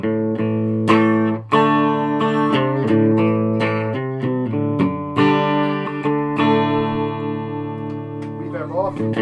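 An electric guitar, a Telecaster-style build in single coil mode, plays chords and single notes through a small Laney amp and cabinet with reverb on, ringing with bright, slightly gritty sustained tones and some bends near the end.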